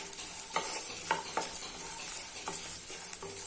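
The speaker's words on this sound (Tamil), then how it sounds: "இந்த ஆயில்லையே வந்துட்டு இதை நல்லா வறுங்க விடுங்க." Ingredients for sundakkai vathal kuzhambu, a tamarind gravy with dried turkey berries, fry in oil with a steady sizzle. A spoon scrapes and stirs through it in repeated strokes, close and quiet, with no voice.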